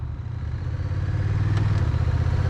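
Honda Rebel 1100 DCT motorcycle riding at a steady low pace in its rain mode, a continuous low engine drone with a slight pulsing rumble, close and even throughout with no talk.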